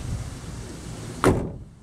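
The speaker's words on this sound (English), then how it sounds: "Doors shut nice." A single solid thud of a 1950 Ford Sedan Delivery resto-mod door shutting, close by, after a moment of low background hum, followed by quiet.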